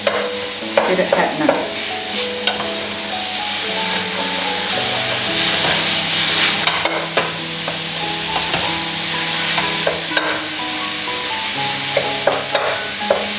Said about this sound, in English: put in your mincemeat. Push it around.